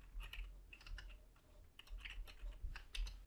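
Keys clatter on a computer keyboard in short bursts of clicks as a parameter name is entered for a landscape material in Unreal Engine, close and clear with no talking.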